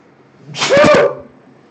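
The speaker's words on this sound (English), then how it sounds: "That was a sneeze." A single loud, sharp sneeze bursts out close up, then fades quickly.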